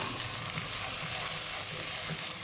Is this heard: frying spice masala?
yes